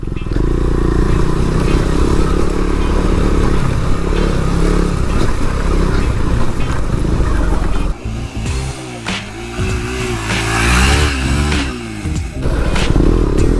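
KTM Duke 390 motorcycle ridden hard off-road on a rough track, engine droning loud and close with rising and falling revs, rattling over bumps, and a brief dip and surge in throttle midway.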